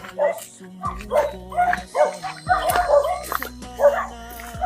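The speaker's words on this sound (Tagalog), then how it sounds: "Habulin kami ng aso." A dog chases people outdoors, giving a run of close, sharp barks and yips in quick bursts, with voices mixed in.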